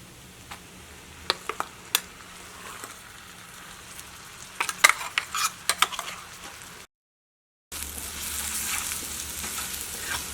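Ginger and garlic frying in a pan: a soft sizzle with sharp clicks and scrapes of stirring, a brief silent gap, then a louder, denser sizzle near the end.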